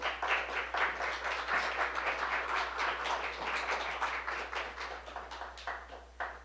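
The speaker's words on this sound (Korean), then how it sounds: "이 시간 나오실 때 우리 박수로 우리 환영하도록 하겠습니다" A congregation at a Korean Baptist church's Sunday morning service in Frederick claps to welcome a speaker: sustained, fairly distant applause from many hands that slowly thins and fades over several seconds.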